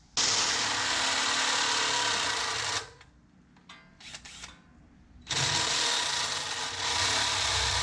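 A power drill whirs steadily while working on a cracked track bar bracket, stops for a couple of seconds of quieter handling noises, then starts again and runs on.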